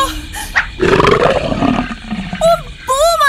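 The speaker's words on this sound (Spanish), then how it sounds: "¡Un puma! Rujo como lo hace el puma, como el puma." A puma roars, a loud, rough drawn-out growl lasting over a second, followed by a few shorter bright calls and squeaks.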